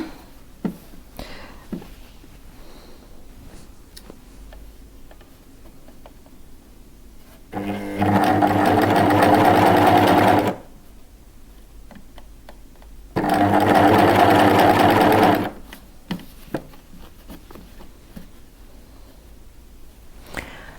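A cover stitch machine sews a lace camisole in two loud, steady bursts of running stitches lasting a few seconds each, separated by quieter pauses with faint handling noises.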